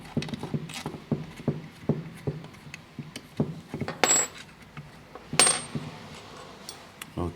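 Small bolts on a Bosch Gen 4 e-bike motor are worked loose with a hand tool, giving a run of rhythmic metallic clicks and ratcheting taps, with two sharper metal clinks standing out, close and moderately quiet.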